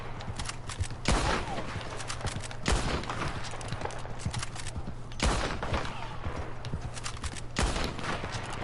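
Rapid bursts of gunfire from the player's gun in a Red Dead Redemption 2 session, sharp loud shots recurring every second or two over a constant low background hum, with several heavier, denser volleys standing out.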